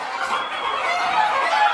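Native chickens on a farm in Qatar cluck and call together in a dense, overlapping flock chorus, close and continuous with no talk.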